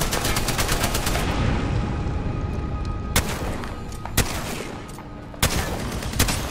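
Gunfire raining down from the air in Apex Legends: dense, loud automatic fire rattles continuously, then thins into a few separate heavy shots spaced apart.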